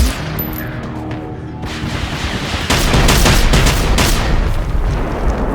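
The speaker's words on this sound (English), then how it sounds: "there is a harvester that I was talking about. It can also fire missiles, as shown" A harvester robot in the game Generation Zero launches missiles, a loud, dense barrage of rapid booming blasts and crackling impacts that builds into a sustained roar, with no speech.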